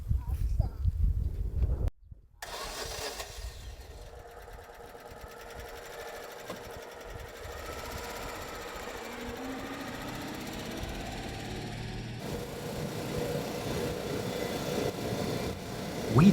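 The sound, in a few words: Mini Moke small car engine driving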